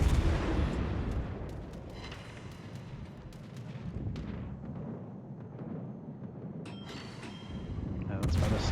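A Saint Louis cruiser fires a heavy gun volley in World of Warships, a deep rumbling boom that rolls and fades into naval battle noise, with a softer second blast near the end.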